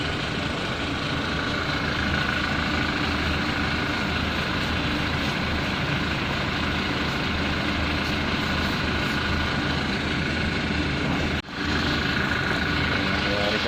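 A car engine idling steadily at close range during volcanic ashfall from the 2020 Taal eruption, a broad continuous rumble that barely varies apart from one brief dip near the end.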